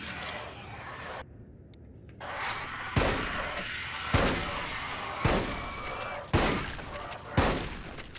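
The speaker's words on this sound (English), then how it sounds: "See how useful the shotgun is against these guys?" Shotgun blasts from the video game Resistance fired at enemies, about six loud booming shots spaced roughly a second apart, close and dominant with no talk.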